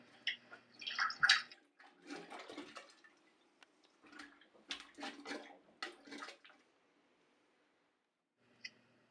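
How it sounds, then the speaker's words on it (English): A plunger pumps water down a toilet drain, producing a series of wet sloshing and sucking gurgles in uneven bursts, fairly quiet and close, trailing off into near silence with one last small splash. "Remove as much water from the toilet bowl as you can by forcing it down the drain with a plunger."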